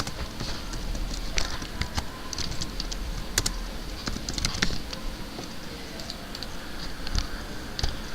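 Steady, rapid typing on a computer keyboard as a title is entered in Adobe Flash, with light, close key clicks and occasional sharper taps running throughout over faint background noise.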